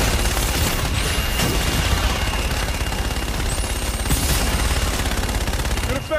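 Dense, continuous gunfire and explosions fill a space-battle mission in Call of Duty Infinite Warfare. It is loud and unbroken throughout, with booming impacts and a couple of whooshing streaks passing overhead.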